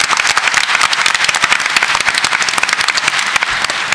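An audience at a film festival women's panel gives dense, steady applause, loud and continuous throughout, with no voices standing out.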